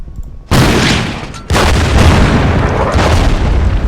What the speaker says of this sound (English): I'd like to get a shot from the artillery gun on it